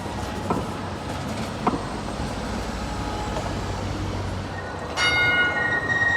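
An airport express tram rolls into a Lyon station with a steady rumble of wheels, a couple of faint clanks, and a brighter squeal or chime near the end.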